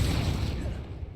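A fire spell, Incendio, cast in a Hogwarts video game: one loud, dense whooshing burst that hits at once and slowly fades.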